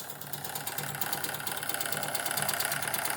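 A small Wilesco D32 live steam engine chugs and idles steadily with a rapid mechanical knocking and buzzing rattle, growing slightly louder over a few seconds.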